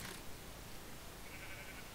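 A sheep bleats in Minecraft, modded Hexxit in the Twilight Forest dimension; a short, faint bleat over a quiet, noisy game background.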